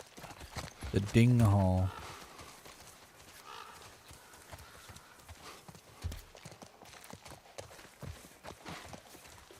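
Horse hooves clip-clop steadily in The Last of Us Part 1, a video game, as a horse walks along beneath a voice and other game sounds.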